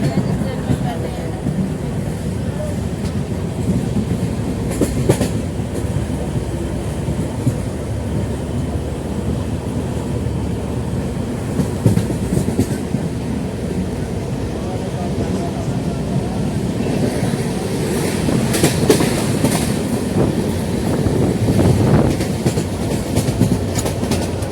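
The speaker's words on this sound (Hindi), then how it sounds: "मेरी ट्रेन चल रही है" Steady low rumble and rattle inside a moving passenger train, with a continuous close drone and occasional clatter building toward the end; no voices are heard.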